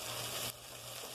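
Fresh chopped garlic, half a head, drops into a hot pan and sizzles loudly for about half a second before settling into a quieter, steady fry.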